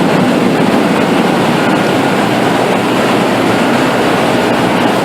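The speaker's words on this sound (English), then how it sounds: "Dehumidifier. Another fan blowing up the carpet." Water-damage drying equipment, fans blowing across carpet and a dehumidifier, runs as a loud, steady, unbroken rush of air noise with no voices.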